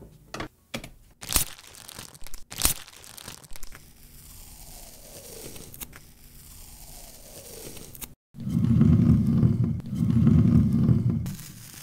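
Paper is crinkled close to the microphone as foley for skateboard wrapping being peeled off, with sharp crackles and tearing rustles, then two louder sustained bursts of crumpling near the end.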